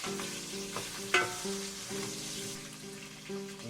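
Hilsa fish fries in oil with a moderate, steady sizzle and light stirring, one sharper clatter partway through, and faint tonal music-like hum beneath.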